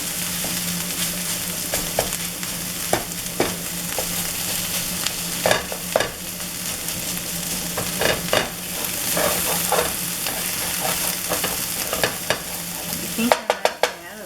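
Spinach being stirred and broken up in a large frying pan, with a steady sizzle underneath and a run of clicking, scraping utensil strokes against the pan; no talking.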